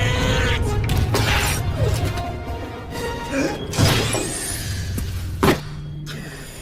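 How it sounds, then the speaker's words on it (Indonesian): A robot's protective glass shatters in a battle scene from the Avatar film, amid creaking mechanical movement, heavy thuds, and sharp crashing bursts over a dense film soundtrack. "Jack juga berhasil memecahkan kaca pelindung robot."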